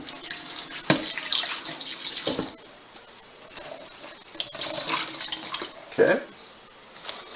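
Tap water runs into a kitchen sink as vegetables are rinsed, splashing in uneven bursts with someone talking over it.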